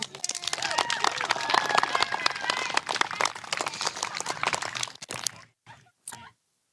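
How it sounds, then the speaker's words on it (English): Spectators at a women's football game clap and cheer for both teams, a dense crowd ovation of steady applause that runs for about five seconds, then breaks into a few scattered final claps before fading out. "A round of applause for both teams."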